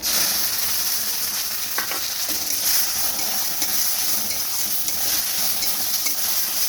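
Fried taro stolons in a pan sizzle loudly and continuously as a chili, garlic and mustard paste is stirred in, with scraping spoon strokes and light utensil clinks over the constant frying hiss.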